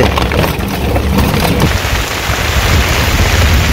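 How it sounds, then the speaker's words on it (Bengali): Heavy rain falls in a Bangladeshi village, a loud, constant roar of drops drumming on roofs and ground, with close spattering throughout. "বৃষ্টির কারণে যাইতে পারতেছি না"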